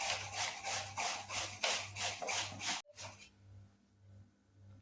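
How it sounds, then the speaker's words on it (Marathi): A whole pumpkin is rubbed by hand against a metal grater for sweet pumpkin-and-jaggery fritters, making a fast, rhythmic rasping of repeated close scrapes that stops briefly near the three-second mark and then continues more softly. "भोपळा किसून घेऊया। अशा प्रकारे किसून घ्यावे।"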